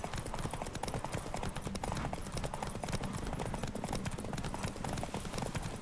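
Hooves of Geralt's horse Roach in The Witcher video game clip-clop in a steady, continuous trot, close and fairly loud over a dense game soundscape, with a brief whinny possible.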